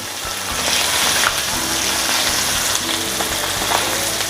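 Pieces of pindang fish, browning for an East Javanese pindang bumbu rujak, sizzle steadily in hot oil in a pan, a dense continuous crackle and hiss with brief pops, close and fairly loud, with no voices.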